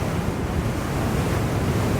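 Steady, loud wind buffeting the microphone while riding a Extreme Bull GT Pro Plus electric unicycle along a straight pathway, a continuous low roar with no breaks and no talking.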